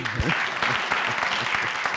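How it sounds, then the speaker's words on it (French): Studio audience applause on a television entertainment show, with steady clapping throughout and a voice briefly heard over it. "On applaudit pour Agozo aussi."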